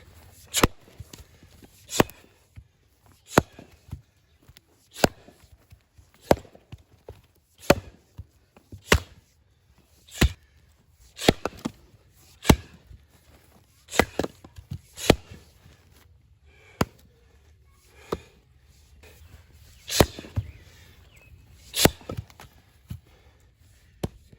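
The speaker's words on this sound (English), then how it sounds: "I'm gonna go ahead and split it up because I don't use chopping blocks" Firewood is hand split with an axe, without a chopping block, beside a shed. Sharp, loud cracking strikes land one after another at an uneven pace across the stretch, with quiet shuffling between blows and no voices.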